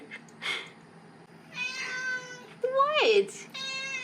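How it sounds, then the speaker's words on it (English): A house cat meows several times in a laundry room, drawn-out rising and falling calls, one louder and strained, between quiet stretches with light background noise. "my cat had other plans"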